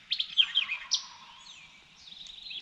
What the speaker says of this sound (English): He's gobbling his head off.